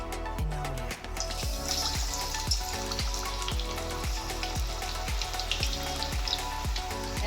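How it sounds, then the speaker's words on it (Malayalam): Chicken 65 pieces coated in cornflour drop one by one into hot oil, each landing with a bubbling burst before settling into a continuous crackling deep-fry sizzle, with no talking. "ഓരോ പീസ് ഇട്ട് വറുത്തെടുക്കാം."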